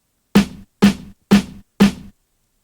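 Four evenly spaced drum hits with a deep, booming body, each ringing briefly before the next, played alone.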